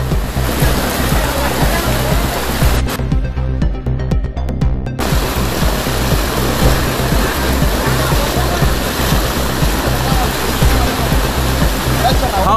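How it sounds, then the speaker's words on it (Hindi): Floodwater rushing fast through a street beside a drain during heavy rain in Hyderabad: a loud, constant roaring wash of water filling the whole clip, close and unbroken. "देखिए भाई पानी कितना स्पीड से आ रहा है"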